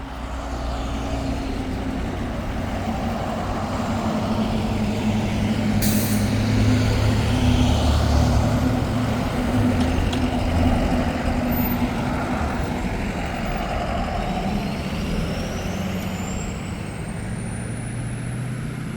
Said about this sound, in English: we got the school buses coming now